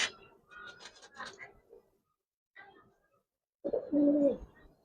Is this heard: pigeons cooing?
yes